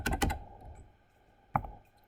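Short bursts of close, crisp keystrokes on a computer keyboard while physics vector problems are worked out: a quick cluster of taps, a pause, then one more tap.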